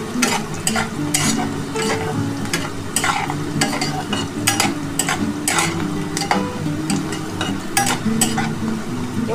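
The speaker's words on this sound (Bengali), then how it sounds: "এবার আমি মশলাটা দিয়ে দিচ্ছি।" Ground spice paste sizzles and fries in a pan with lightly browned onions for egg curry, with steady crackling and repeated scraping stir strokes, close and continuous, and no talk.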